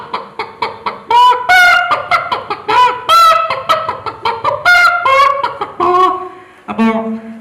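A performer at a school arts festival mimicry act uses their voice to imitate a hen clucking. The calls come in a loud, close, rhythmic run of bursts, ending in a lower drawn-out cluck.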